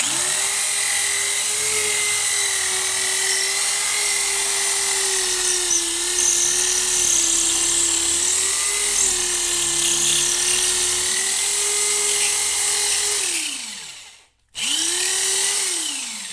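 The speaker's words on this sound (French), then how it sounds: "Donc je vais percer." A power drill whines steadily at high speed for a long stretch while installing a shower tray, pitch dipping slightly under load, then cuts off and briefly starts again, close by.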